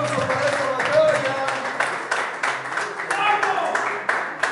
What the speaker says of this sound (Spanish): ¡Un aplauso para esa batalla!